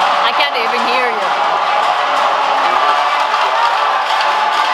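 Loud, dense clamor of many musicians practicing at once in a competition hall, with layered plucked and sung tones filling the room continuously and steadily, no single player standing out.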